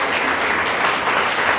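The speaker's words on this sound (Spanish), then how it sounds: "Ok, demos un aplauso al Señor." A church congregation applauds together in praise, a dense, steady wash of clapping that holds at an even level for the whole moment, close and full with no voices standing out.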